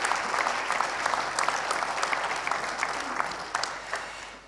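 An audience at a round-table discussion in Lille claps for several seconds, sharp individual claps standing out within a moderate, steady applause that slowly tapers.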